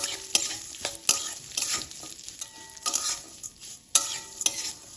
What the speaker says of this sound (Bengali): সিমাইটা ভালোভাবে ভেজে নেব।